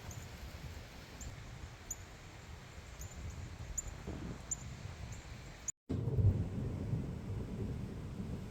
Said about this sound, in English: the first sign of lightning and the first thunderstorm has just started.